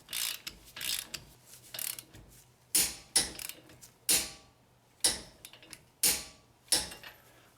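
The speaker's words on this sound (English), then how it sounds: "So now we're gonna torque the other one." A torque wrench clicks sharply on a bolt during front drive axle work on a Toyota Avalon. Softer ratcheting comes first, then a series of crisp, evenly spaced clicks, close and distinct.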